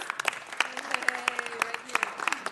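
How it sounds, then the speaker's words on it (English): Crowd applause at a city council meeting for a graduating senior wrestler, heard as a short, dense burst of clapping with a few louder claps and voices mixed in. "So let's give her a big round of applause."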